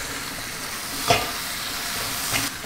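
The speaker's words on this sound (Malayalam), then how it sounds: "ഇനി ഈ ടൊമാറ്റോ ഇതുമായിട്ട് നന്നായിട്ട് വെന്ത് ചേരുന്നത് വരെ നന്നായിട്ടൊന്ന് ഇളക്കി കൊടുക്കണം" Tomatoes are stirred into frying masala for a country-style mutton curry: a steady close sizzle broken by two sharp spoon scrapes against the pan, one near the middle and one toward the end.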